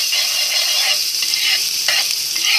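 Oil sizzling loudly in a pan as crushed garlic goes in, a steady close hiss of frying with faint stirring scrapes and no voices.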